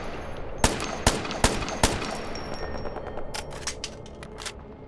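Gunfire in Ghost Recon: Future Soldier (PlayStation Move) starts with four sharp, loud, evenly spaced shots, then softer rapid bursts chatter further off.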